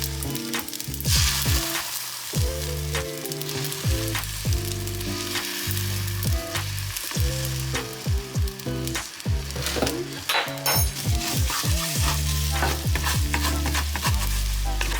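Cauliflower fried rice with egg white sizzles steadily in a pan, with repeated scraping and stirring strokes, loud and close, with no talking.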